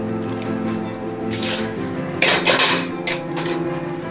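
Water is poured from a tap into a bowl of turmeric and dried chili powder as a dhal curry is prepared, a steady close splashing stream with a few clinks of a kitchen utensil.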